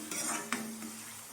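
Onions sauté with a little salt in a pan for idli upma, a brief soft sizzle with a spoon clinking and scraping against the pan.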